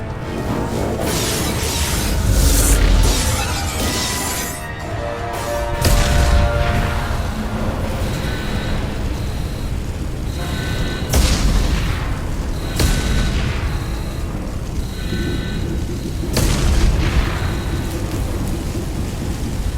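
Explosions aboard a starship under attack in Mass Effect 2, with heavy booms and rumbling blasts recurring every few seconds over a continuous loud roar of fire and destruction, with no talk.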